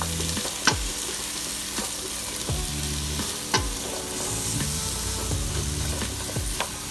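Onions and mushrooms sizzle steadily in a frying pan, with several sharp scraping clacks as the vegetables are stirred around, close and continuous without any talk.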